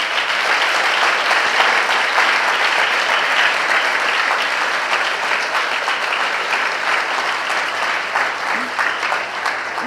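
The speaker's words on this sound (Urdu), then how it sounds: "پاسٹر جاوید راؤف کے لیے ایک بھرپور تالیاں بجا دیں" Sustained applause from an audience for Pastor Javed Rauf, a dense, steady wash of many hands clapping at close range that holds evenly for about ten seconds without letting up.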